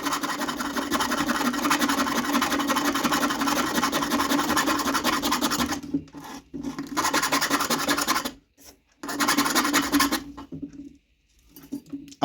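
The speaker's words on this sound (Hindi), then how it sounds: "थोड़ा सा रेती लेंगे यहाँ पे, या आप रेकमाल भी ले सकते हैं, उससे थोड़ा सा हम यहाँ पे घिस लेंगे।" A metal file rasping across an e-rickshaw controller circuit board, steady close scraping strokes running continuously for several seconds, then breaking into shorter bursts separated by brief pauses.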